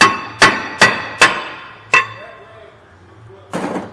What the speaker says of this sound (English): now if your rotor don't come right off, just give a couple of love taps on the corner